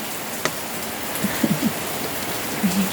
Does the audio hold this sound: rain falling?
yes